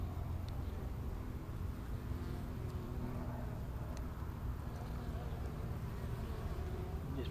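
Honeybees flying back into their hive, a faint, steady insect hum with a few soft buzzing passes over a low background rumble.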